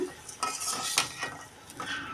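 Rice for beef biryani fries in a pot while a metal spoon stirs and scrapes against the sides, making several clattering strokes over a soft sizzle.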